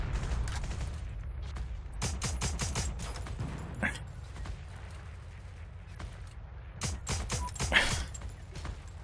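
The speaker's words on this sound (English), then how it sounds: "But where is that person shooting from?" Gunfire in the video game Heroes & Generals, with bursts of automatic fire and scattered single shots at moderate distance, coming in clusters with pauses between them and a brief louder crack near the end.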